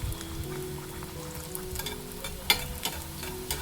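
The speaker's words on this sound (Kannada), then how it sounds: "ಇವಾಗ ಒಂದೊಂದಾಗಿ ಇದ್ರೊಳಗಡೆ ಈ ಥರ ಪುರಿನ ಕರ್ಕೋಬೇಕು" Puris fry in a shallow layer of oil in a pan, giving a soft continuous sizzle with light scraping and a few sharp clinks of a utensil, close and fairly quiet.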